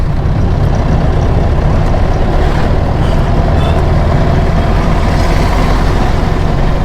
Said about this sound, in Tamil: இது நார்மல் இன்ஜின்ங்க, டர்போ இன்ஜின்னா இதோட பயங்கர பிக்கப்பாக இருக்கும்.